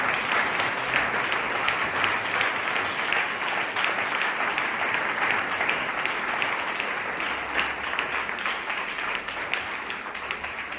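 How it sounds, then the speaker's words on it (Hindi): A church congregation clapping loudly during a Hindi sermon, a dense, sustained wash of applause that holds steady for the whole stretch with no talking over it. "जोरदार ताली बजाओ और धन्यवाद दे।"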